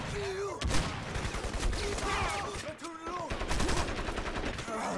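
Machine gun nest firing in the shooter Crysis, dense overlapping gunfire and explosions in a busy battle mix, loud and continuous, with a voice speaking over parts of it.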